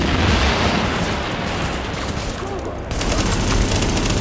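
Sustained covering gunfire in The Division, dense automatic bursts and shots layered continuously for several seconds, loud and close, with a sharper burst of rapid fire near the end.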